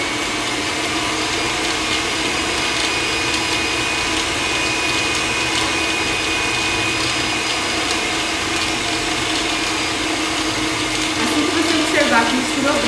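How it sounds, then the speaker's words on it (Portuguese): Electric stand mixer beating cookie dough, a loud, constant motor whir with a faint high whine, running steadily throughout and picking up a bit of knocking near the end. "E eu vou ligar agora a batedeira."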